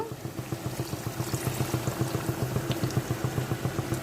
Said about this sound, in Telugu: ఇప్పుడు వాటర్ వేసుకుందాము